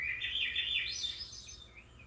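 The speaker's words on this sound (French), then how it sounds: "J'entends des petits oiseaux à chanter dans la forêt là" Small birds chirping and twittering in a forest, a continuous high, faint chorus of quick tweets at a distance with no voices.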